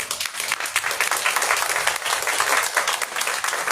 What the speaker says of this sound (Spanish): Fuerte aplauso a Marcos Rabanales